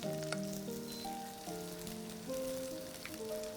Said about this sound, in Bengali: এটাকে আমি ভেজে নেবো আগে।